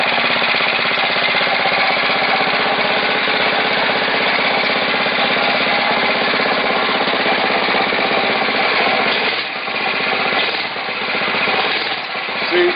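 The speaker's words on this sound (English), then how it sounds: "And then you pull it, and God willing, the thing will just start right up." The engine of a Motovox MBX10 mini bike runs after a pull start, a loud, close, rapid chugging rattle that holds steady throughout and dips briefly near the end.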